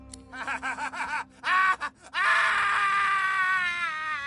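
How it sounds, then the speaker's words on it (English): A crazed lone wolf spirit in a video game screams repeatedly, with rising wails and groans breaking into one long, loud, sustained cry. "The crazed lone wolf spirit screams and does not stop."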